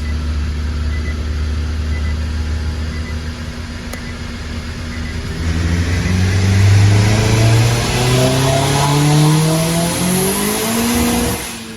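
Turbocharged ethanol-fuelled Nissan Cube with the boost turned up accelerates hard, its engine note climbing steadily in pitch. The clutch is slipping, and the loud, close revving rises over about twelve seconds.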